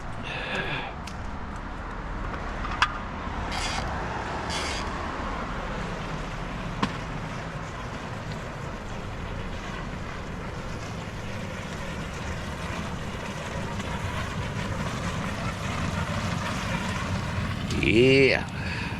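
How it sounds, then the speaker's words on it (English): Hot tub jets running at 104 degrees in a condo hot tub at Mexico Beach, Florida, giving a steady broadband rushing and bubbling wash throughout, with a brief louder churn near the end. "Let me go turn this jet on."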